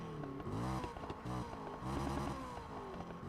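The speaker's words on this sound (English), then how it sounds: "I'm just gonna rev up the car here a little bit" A car engine revving in Need for Speed Payback, several rising and falling exhaust revs with a throaty, buzzing tone, close and moderately loud, no speech over it.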